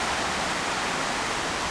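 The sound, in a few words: flooding river rushing past old holly trees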